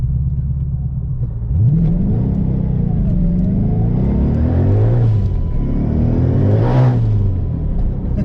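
Loud, close 1000hp Ford Mustang GT on drag radials accelerating hard, engine note sweeping up and falling back through repeated rising pulls with a deep rumbling exhaust, no talk.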